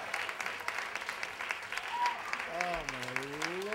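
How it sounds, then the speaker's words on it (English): Audience applause for a performer, a dense, steady wash of clapping that runs the whole stretch, with a voice rising over it near the end. "Keep it going for Stephen"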